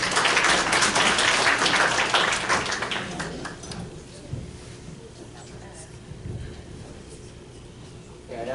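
Audience at a District of Summerland public hearing on Banks Crescent bursts into dense applause for the first few seconds, then the clapping dies away into a quieter room murmur.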